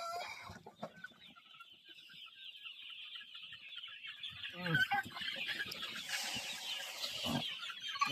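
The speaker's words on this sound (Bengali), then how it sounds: "এই দেখি সেগুলা মুরগি গ্যালারিতে বয়ে রয়েছে" Full-grown Sonali chickens resting in a farm gallery cluck and murmur faintly over steady background noise, with scattered soft calls that swell a little louder toward the end.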